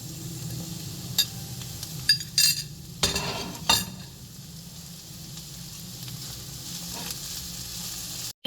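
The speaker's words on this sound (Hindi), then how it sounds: "सबसे पहले हम इसमें गाजर डालेंगे, इसे हल्का हल्का हम सॉटे करेंगे।" Carrots, capsicum and cabbage sauté in a pan, giving a steady sizzle under several sharp clicks and scrapes of a utensil stirring against the metal.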